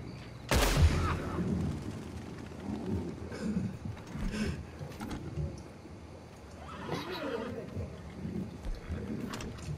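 A single loud gunshot in Red Dead Redemption 2 at the start, with in-game ambience and faint background game noises rumbling underneath afterward.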